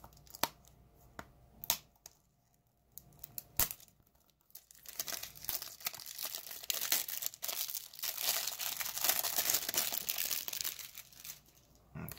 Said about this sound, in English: So now let's remove this plastic and unbox the game.